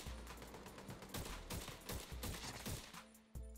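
Rapid bursts of automatic gunfire in the shooter game The Division 2 crackle in quick succession, fairly faint and overlapping, with a final shot after a short pause.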